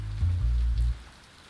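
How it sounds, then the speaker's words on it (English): A sudden storm brings a loud, close burst of rain pattering on a surface with a heavy low rumble, which drops off abruptly to a faint hiss after about a second. "The storm came quick and recently."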